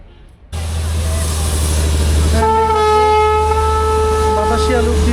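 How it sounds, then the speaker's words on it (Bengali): The Darjeeling toy train rolls through Batasia Loop with a steady loud rumble, then a long sustained horn blast sounds close by; voices talk faintly underneath. "বাতাসিয়া লুপ দিয়ে টয় ট্রেন যাচ্ছে।"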